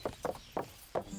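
Horse running in the video game Kingdom Come Deliverance, four heavy, evenly spaced hoof thuds in quick succession, close and fairly loud.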